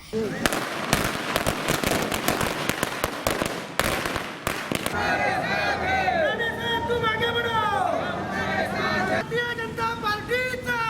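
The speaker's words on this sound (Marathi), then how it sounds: "फटाक्यांची आतषबाजी करत मोठा जल्लोष केला" Rapid crackling bursts of firecrackers pop in a dense, loud barrage at a political party celebration, then give way to crowd noise and voices over a festive din.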